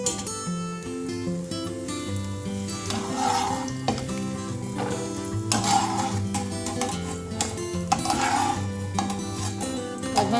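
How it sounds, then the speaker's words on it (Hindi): Cashews roast lightly in a pan for a fenugreek and gum sweet, a soft sizzle with occasional scraping stirs, set against steady background music. "तो अब हम इसमें काजू डाल के, काजू हल्का सा रोस्ट कर लेंगे।"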